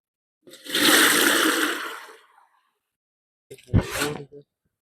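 Plain water poured into a pot for village-style whole chicken and noodles, a loud steady rushing splash for about two seconds, then a short clatter and sloshing.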